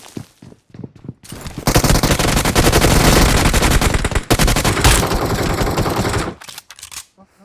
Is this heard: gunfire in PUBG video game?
yes